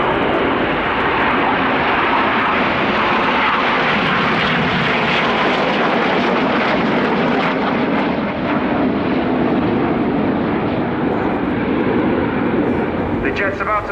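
A Tornado jet roars past at an airshow, a loud, sustained engine rumble and whoosh that holds for the whole stretch while a commentator talks over it.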